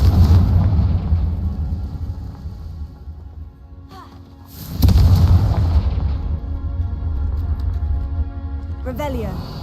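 In the video game Hogwarts Legacy, the Confringo spell's explosive blasts land as loud booming bursts over a heavy rumbling background, with a big second blast partway through and a faint crackle near the end.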